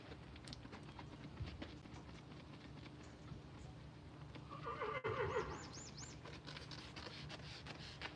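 A mare whinnies once partway through, a clear wavering neigh in a quiet outdoor stable yard with faint background noise and occasional soft knocks.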